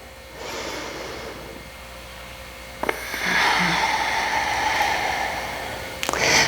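Deep breaths during a beginner Pilates session: a long, airy inhale, then a stronger exhale, followed by another breath, close and unvoiced with faint background hiss.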